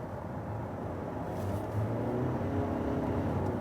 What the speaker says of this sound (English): There you also heard the engine, the normal engine.